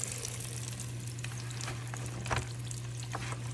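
Saltwater fish fries in hot oil, giving a continuous crackling sizzle with scattered pops and a brief louder spatter midway, close and steady beneath a low background hum.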